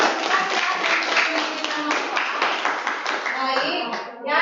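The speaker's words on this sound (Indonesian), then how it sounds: "Iya, bagus, tepuk tangan." A class of schoolchildren claps together in quick, dense, continuous rounds, close and loud, with young voices mixed in throughout.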